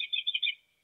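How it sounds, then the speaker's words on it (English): American robin song carried over a phone line, a quick run of three or four thin, bright chirping phrases, narrow and tinny, fading out after under a second. "That's what Robins sound like to you?"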